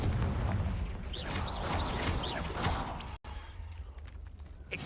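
Booming magical explosions from the Confringo fire spell in Hogwarts Legacy, a dense run of loud blasts and crackling bursts with whooshing streaks, cutting off sharply for a split second before the rumbling battle resumes.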